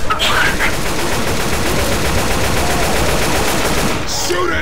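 Dense, continuous automatic gunfire from the video game Left 4 Dead 2 rattles loudly and without letup, with faint game effects layered in.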